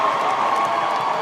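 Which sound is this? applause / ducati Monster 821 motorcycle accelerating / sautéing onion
applause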